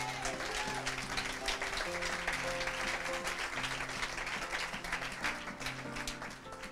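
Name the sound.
audience acclaiming and applauding to glorify God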